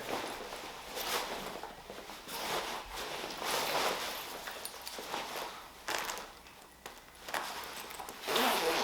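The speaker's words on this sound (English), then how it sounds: "Zip this thing up. Zipper works real easy." A zipper on a Klim Badlands Pro motorcycle jacket is pulled up in several short, scratchy runs, close by, with rustling fabric between the strokes.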